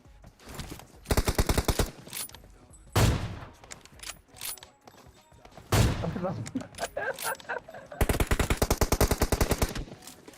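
Automatic weapon bursts in the battle royale game PUBG Mobile, played in a hide-and-seek match, come as several loud rapid volleys separated by heavy single blasts, close and dominant.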